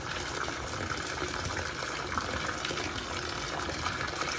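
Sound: pouring Sun laundry detergent from a bottle

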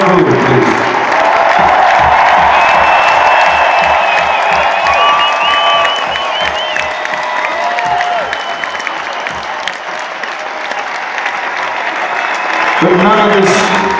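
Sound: concert audience applause and cheering for the crew

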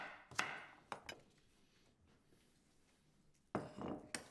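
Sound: chopping carrots into large chunks

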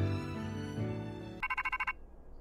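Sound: phone ringtone in Pokémon Scarlet/Violet video game

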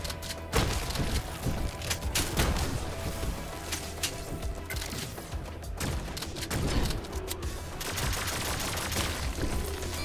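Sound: gunfire in the video game Turbo Overkill

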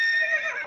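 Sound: horse neigh sound effect in Makey Makey project

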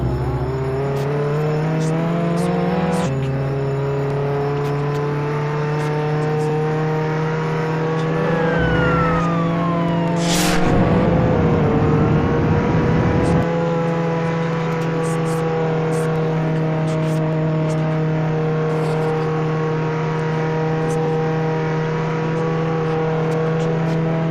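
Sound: car driving in a video game

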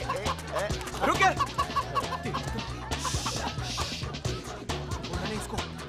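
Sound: chicken clucking

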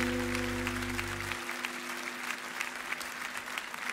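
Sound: audience applause for a singer

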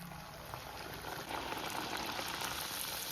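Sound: frying dough in oil

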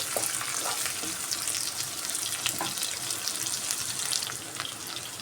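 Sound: thinly sliced onions frying in a pan

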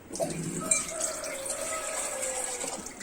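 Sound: water being poured into batter

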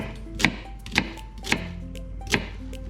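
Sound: knife cutting vegetables

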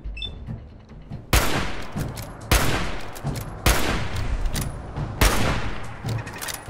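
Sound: turret gunfire in the video game Fallout 4

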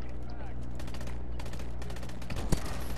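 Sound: sniper rifle gunshot in video game Call of Duty: Advanced Warfare

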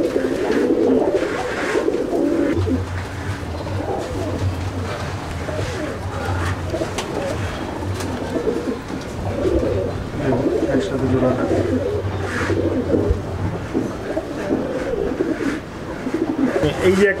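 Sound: Chennai breed pigeons cooing in loft

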